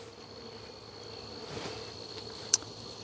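Honeybees at a beehive, a faint steady buzzing hum that carries through with a brief sharp click near the end.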